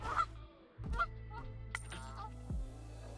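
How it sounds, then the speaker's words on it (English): A goose on a homestead gives a few loud, close honks in short bursts, with a low steady hum underneath. "I need that goose."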